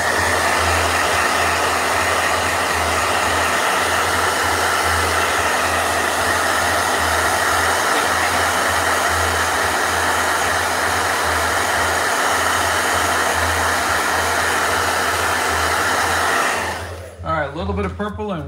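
A hair dryer runs loud and steady at close range for most of the stretch, with a constant whirring roar, then cuts off near the end.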